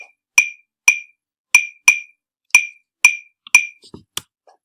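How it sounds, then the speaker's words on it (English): Wooden claves strike out the 2-3 clave rhythm for Cuban music, eight or so sharp, bright clicks in a clear pattern, played alone with a softer rattle near the end. "claves sound like this when we play them"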